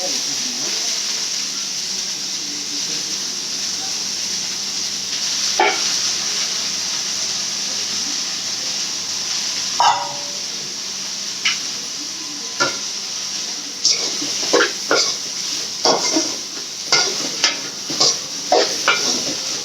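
Broad beans frying and being stirred in a pan with oil, a steady low sizzle under sparse clinks and scrapes of a spoon against the pan that grow more frequent toward the end.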